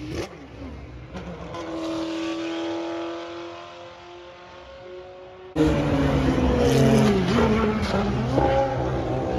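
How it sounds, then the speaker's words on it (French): Historic Formula 1 cars at the Spa circuit pass in the distance, a faint engine whine rising and fading, then a much louder, closer car roars past with its revving pitch sweeping up and down. "Et là, il y a eu encore quelques voitures, quelques F1 historiques."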